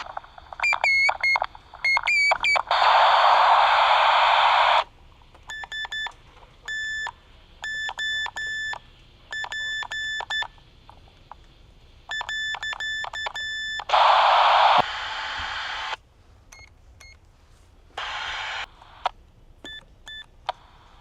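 Vintage Archer Space Control walkie-talkies sound out Morse code: sharp, close electronic beeps in irregular dot-and-dash groups with short gaps, occasionally broken by bursts of hiss and static, and no talking.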